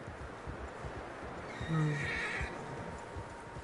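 A horse whinnies once, clear and fairly close, in Red Dead Redemption 2, over a low rumbling background with faint hoofbeats.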